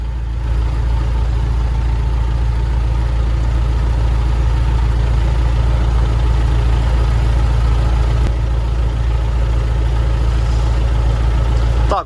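A loud, steady low tractor engine drone fills the space, heard from inside the cab during sunflower sowing, with a constant rumble and no talking.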